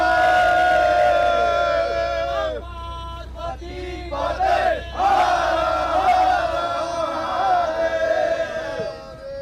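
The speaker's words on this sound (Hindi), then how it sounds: "आप लोग कितने उत्साहित हैं ये आपकी तालियों से और हर हर महादेव की" A large audience chants Har Har Mahadev at an interview event, loud massed voices swelling and falling in long waves, with a short dip partway through before the cheering rises again.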